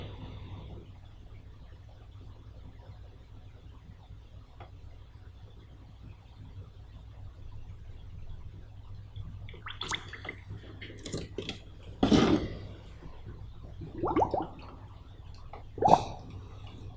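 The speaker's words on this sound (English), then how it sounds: "You can actually hear that as I squeeze and release that hose." Car coolant hoses squeezed and released by hand to push out trapped air, giving a few short squishing, gurgling squeaks near the end after a long quiet stretch of low hum.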